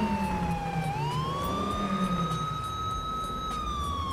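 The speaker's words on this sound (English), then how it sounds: "I need to turn on my siren for this." A police car siren in GTA 5 with the LSPDFR mod sounds one long wailing tone that dips, then rises and holds. It is loud and clear, with no talk over it.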